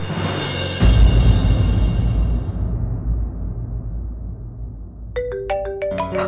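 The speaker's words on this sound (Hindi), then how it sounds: "पापा का फोन।" A loud burst of noise fades out, then a bright electronic phone ringtone starts chiming in a repeating melodic pattern.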